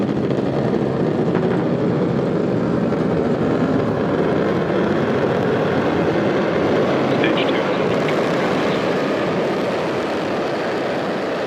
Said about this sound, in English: there is that call out for the landing burn startup on the Falcon 9 first stage